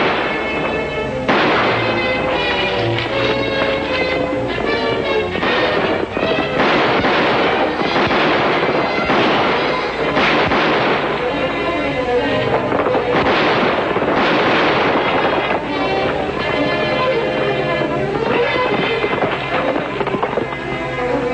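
Old western TV show shootout with a dense run of gunshots over dramatic orchestral music, loud and continuous throughout.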